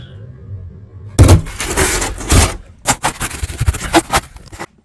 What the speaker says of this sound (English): First thing is we're gonna remove this drywall.